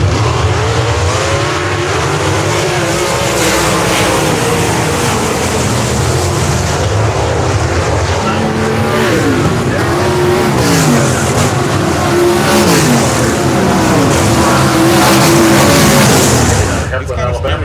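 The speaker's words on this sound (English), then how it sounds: "We've come over to the dirt track right across the road from the actual super speedway to see a little dirt track racing." Dirt track race cars roar loudly past at a dirt oval across from a superspeedway, engines rising and falling in pitch as they blaze by in a continuous stream, with crowd noise and talk underneath.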